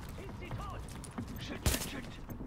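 Pistol gunfire in the video game Tom Clancy's The Division, with scattered shots popping through busy game ambience and one sharper, louder burst near the middle, briefly under a voice.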